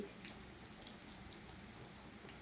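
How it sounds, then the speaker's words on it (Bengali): Morning rain falls steadily outdoors in a continuous, faint, even hiss with soft scattered drops and no voices. "বৃষ্টি পড়ছে তো তাই বুঝতে পারছেন না"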